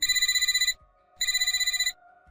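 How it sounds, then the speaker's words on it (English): A work phone rings in two loud electronic bursts of rapid trilling bell tones, separated by a short silent gap, with nothing else heard. "Then my work phone rang."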